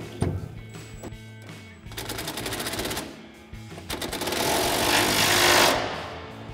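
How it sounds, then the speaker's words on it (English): An impact wrench with a 21 mm socket on an extension and swivel hammers in several rattling bursts as it tightens the upper shock mounting bolt of a 2019-2023 Chevrolet Silverado 1500 coil-over, close and loud with short pauses between bursts. "we're gonna take that same extension, swivel, and 21 millimeter socket on our impact and tighten up our upper mounting bolt here"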